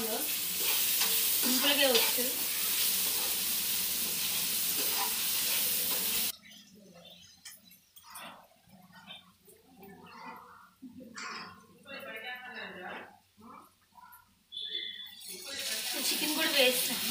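A chicken gravy curry sizzles and fries loudly in a pan while being stirred. The cooking stops abruptly partway through, leaving a quieter stretch with someone talking, and then the sizzle returns near the end.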